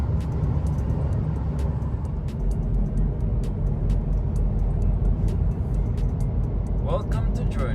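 2020 Genesis G70 driving slowly on the road, a steady low rumble of engine and tire noise heard from inside the cabin, continuous and moderately loud with a few faint clicks over it.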